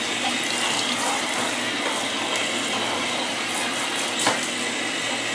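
Running water from a tap pours steadily over a cat's fur during a bath, a continuous close hiss and splash with no talking.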